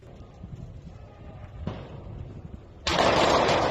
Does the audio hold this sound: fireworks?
yes